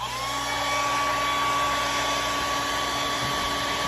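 A hair dryer blows steadily on taped-off acrylic paint, a loud, close, constant whirring roar with an even tone and no pauses.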